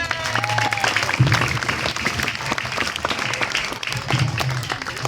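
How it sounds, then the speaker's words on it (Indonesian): Applause from children and staff at an Isra Mi'raj commemoration at an elementary school, a steady round of clapping filling the room with a voice briefly audible over it. "Tepuk tangan."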